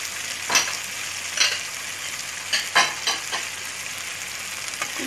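Green and red capsicum with potato being stirred into a sizzling masala in a pan, a steady low fry hiss broken by several distinct scraping stir strokes, with no talking.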